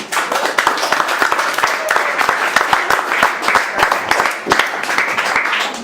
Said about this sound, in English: And let's give you a very special clap to Anne Maloney, please.